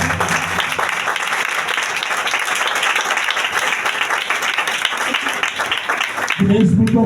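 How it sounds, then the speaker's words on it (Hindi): Audience applause fills a church hall, a dense steady wash of many hands clapping at close range that cuts off abruptly near the end. "जोरदार तालियां बर्रे की किताब के लिए।"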